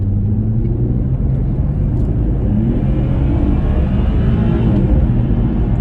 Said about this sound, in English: we'll see what the engine sounds like